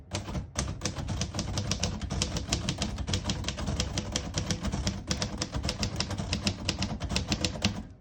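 Rapid, steady typing on a 1947 Royal Quiet De Luxe portable typewriter, close and loud, with crisp key strikes in quick succession and brief pauses, no voices.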